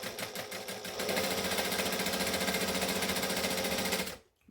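A sewing machine hems a Christmas dress made from Butterick pattern 6094, its steady fast stitching rattle running close and continuous before stopping abruptly near the end, with no talk.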